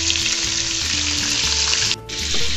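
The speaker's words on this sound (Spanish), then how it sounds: "Ya están comenzándose a cocer más, ya se van a comenzar a dorar." Chicken wings fry in a pan as they begin to brown, giving a loud, steady hiss and crackle that dips briefly near the end and then returns at full strength, with no talking.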